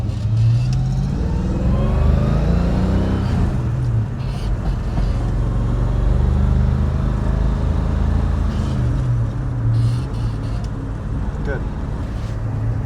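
A 1968 Ford Mustang fastback with a J-code V8 accelerates through its gears on a road test drive, the engine droning and rising in pitch in loud, continuous pulls from inside the cabin.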